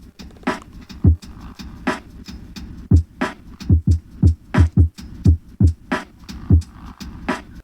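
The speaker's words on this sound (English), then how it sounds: "And all together my drums sound like this." A programmed hip-hop drum beat with a punchy kick and crisp snare hits in a steady, slightly swung groove, loud and close with no voices.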